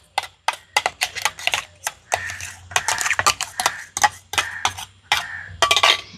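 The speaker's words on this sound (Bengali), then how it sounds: "এবারে ভালো করে চিনি শিরার সাথে মিশিয়ে নিতে হবে" Ground raw mango paste being stirred into hot sugar syrup, heard as a quick series of sharp clinks and scrapes of a spoon against the pot, irregular but closely spaced, close and fairly loud.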